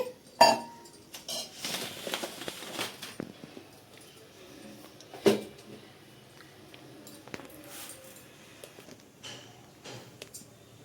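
A new cooking pot for semiya payasam being handled in a home kitchen: scattered metallic clinks and knocks, one sharp bang near the start and another midway, with quieter clatter between.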